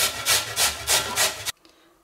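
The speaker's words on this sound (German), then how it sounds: "Dazu gebe ich so eine mittlere Kartoffel und reibe auf so eine feinere Reibe." A medium potato rubbed over a fine kitchen grater in steady rasping strokes, about five even back-and-forth passes, close and loud, ending abruptly into near silence.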